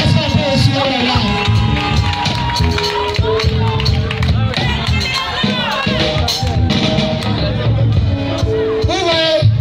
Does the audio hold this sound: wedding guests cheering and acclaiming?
yes